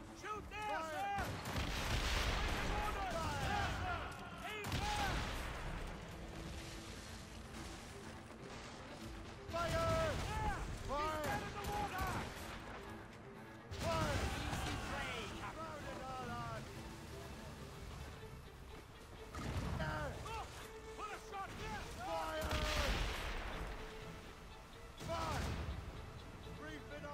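Explosive cannon and gunfire in the video game Assassin's Creed Rogue, heavy booms recurring every few seconds amid a busy battle soundscape with music, while voices shout commands over the din.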